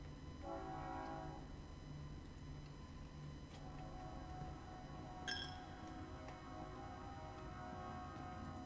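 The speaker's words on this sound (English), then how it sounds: "There's a train coming through." A train rolling through in the Blue Prince video game, a low rumble with a brief horn blast near the start and a sharp metallic clank midway, fairly quiet and distant with no talking.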